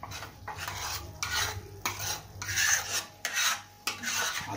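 Pav bhaji masala stirred in a pan, a spoon scraping and rasping against the metal in repeated strokes about once per second, close and clear with no talking.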